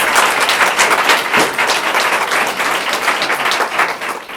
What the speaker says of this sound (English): I would like to give our distinguished panelists a very huge round of applause for that insight.